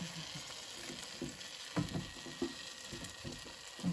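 Sausages sizzle quietly in a Ninja cooker, with a few soft clicks and knocks as tongs turn one over, heard close over a steady background hiss.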